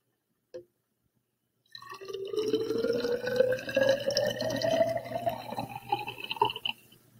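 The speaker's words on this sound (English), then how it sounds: "pour it into our graduated cylinder right here" Water pours steadily into a graduated cylinder for several seconds, its pitch rising as the cylinder fills; a single light tap comes first, and the pour is fairly quiet and close.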